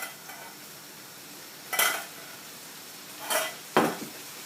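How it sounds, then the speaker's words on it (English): Cavolo nero goes into a hot pan of softened tomatoes, followed by a few short scraping stirs of a utensil over a faint sizzle in a quiet kitchen. "Put the heat up and add your Cavolo Nero."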